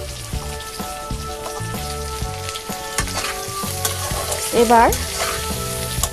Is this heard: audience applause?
no